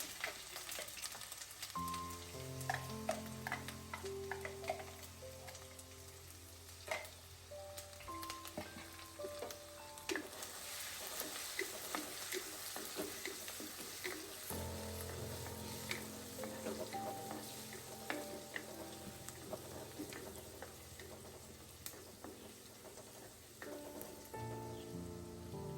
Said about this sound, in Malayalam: വെളുത്തുള്ളി ഇഞ്ചി വഴണ്ടി വരുമ്പോൾ നമ്മൾ മസാലകൾ ചേർക്കുകയാണ്.